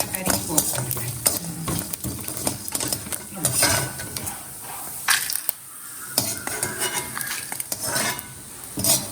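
Cumin, black pepper and coriander seeds dry roasting in a pan for a Kongu-style curry, with a metal spoon stirring and scraping in quick, uneven strokes and a soft sizzle underneath, close by and with no talking.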